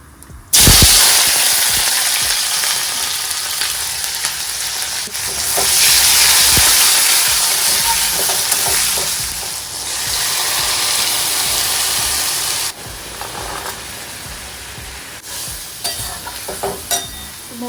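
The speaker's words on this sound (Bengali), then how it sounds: "টমেটো কেটে রেখেছি আর আদা গ্রেট করে রেখেছিলাম তো এটা আমি এখন তেলের মধ্যে দিয়ে দেবো" Chopped tomato and grated ginger hit hot oil with a loud burst of sizzling that swells and eases over several seconds, broken by stirring and utensil scrapes, with no talking.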